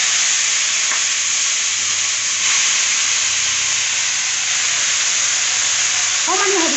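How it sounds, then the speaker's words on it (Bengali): Onions and turmeric fry in a pan with a loud, steady sizzle and hiss that runs unbroken throughout, with a brief stir or scrape near the end. "এতিয়া ভাজি আছোঁ"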